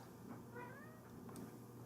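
A cat meows once, a drawn-out rising and falling cry close by, over a low steady hum.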